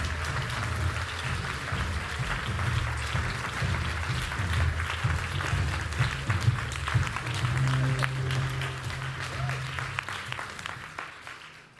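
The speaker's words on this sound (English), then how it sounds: "let's welcome them to the stage with a round of applause" Audience at the opening session of a European Green Party council applauds to welcome speakers onto the stage, a steady wash of clapping throughout with a low rumble of music or hall noise underneath, fading slightly at the end.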